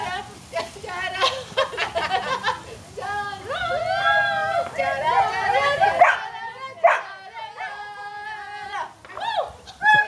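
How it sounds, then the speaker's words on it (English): Several puppies bark, yip and whimper in quick, overlapping bursts close by, with a few human chuckles and voices mixed in among the high-pitched calls. "Watch out for the doggies."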